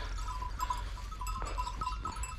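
A flock of sheep and goats bleats intermittently outdoors on a hot hillside, several calls rising over a steady low background rumble, fairly distant and without talk.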